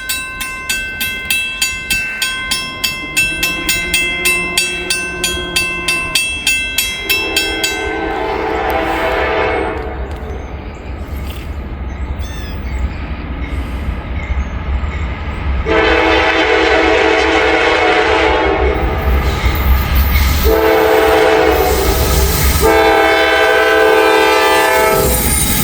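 A heavy ballast train rolls past a level crossing in Walton, with crossing bells ringing rapidly at first, then loud horn blasts and the steady rumble and clatter of wagons close by.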